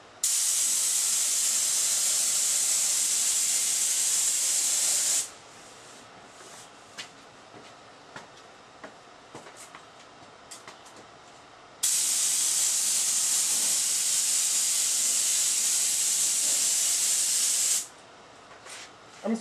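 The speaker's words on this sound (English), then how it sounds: "I'm starting to hear from the sound of my spray that I'm running out of juice." An HVLP compressor-fed spray gun sprays finish onto boards, giving two long, steady hissing passes separated by a quieter pause with faint clicks and shuffling.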